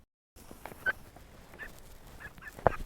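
A chicken on a homestead gives a few soft, scattered clucks close by, faint and sparse against a quiet indoor background.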